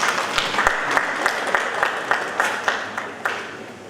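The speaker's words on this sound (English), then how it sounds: "Please do come forward to clap for him." An audience claps for a teacher being welcomed at a mathematics olympiad session, a steady crowd patter with a few sharper individual claps standing out, moderately loud and close.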